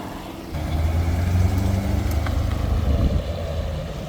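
A V12-powered car at a cars-and-coffee meet gives a short rev, its engine rising from a low idle into a deep, sustained rumble that holds for a few seconds before easing slightly, close and without talk.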